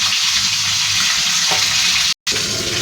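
Fish frying in a pan over a strong flame, a loud, dense, continuous sizzle that stays close and steady, broken only by a very short gap near the end.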